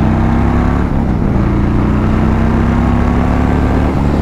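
A motorcycle engine hums steadily while riding, a loud, continuous close-up drone with a constant low pitch under rushing wind.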